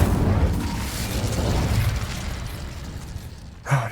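An Incendio fire spell bursts in the Hogwarts Legacy video game, a loud, rumbling, fiery explosion that fades gradually, followed by a short sharp pop at the end.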